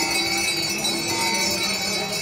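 A Hindu temple bell rings with a sustained metallic resonance, a steady shimmering hum of overlapping tones that hangs evenly without distinct strikes, moderately loud and alone.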